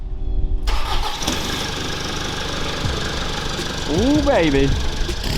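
A Mitsubishi Delica L400 2.8TD diesel with a loud exhaust cranks and starts, then settles into a knocking diesel idle. A voice calls out over the rumble near the end.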